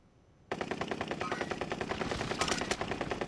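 An MP7 submachine gun fires a rapid, sustained automatic burst in a shooter game, sharp close shots rattling in quick even rhythm with no talk over it.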